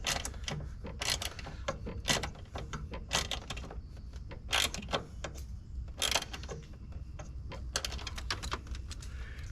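A short bolt is ratcheted tight during a coolant tank install on an FL5 Civic Type R, giving a steady run of small close clicks in uneven bursts with no talking.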